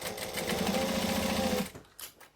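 Sewing machine stitching around a leather saddlebag, a fast even run of needle strokes close by for over a second, then stopping abruptly with a couple of faint handling clicks.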